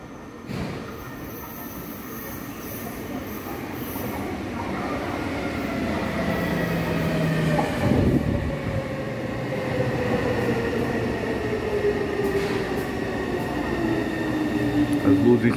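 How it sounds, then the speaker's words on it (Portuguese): A metro train pulls into a station in Taiwan, rising from a distant rumble to a loud, close roar with high wheel squeals and sliding tonal whines as it brakes, with a voice speaking briefly over it. "Olha o metrô chegando."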